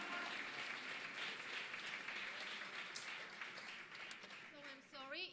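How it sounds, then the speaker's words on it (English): Concert audience applause after a soprano's performance, a dense sustained wash of many hands clapping throughout, with a voice beginning to speak over the clapping near the end. "And now, again, a big applause for our diva, Anna."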